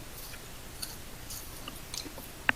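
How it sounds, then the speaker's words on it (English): Soft, close chewing picked up by a player's microphone during an online tabletop role-playing session, faint wet munching clicks over quiet background hiss. "we can hear you chewing"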